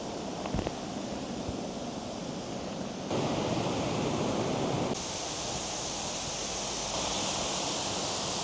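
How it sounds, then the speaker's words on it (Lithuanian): A constant rushing roar of a roadside waterfall on Madeira, steady broadband noise throughout with no voices, shifting slightly in tone as if the recording position changes. "Bet įspūdingas Krioklys. Prie pat kelio toks."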